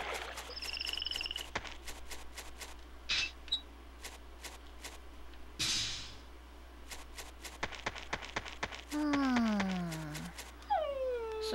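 In the GameCube game Giftpia, a dog gives several short, faint barks and whimpering yelps, scattered among soft clicking game sounds and a few rising and falling chirps, with no talking.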